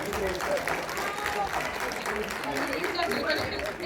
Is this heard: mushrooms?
no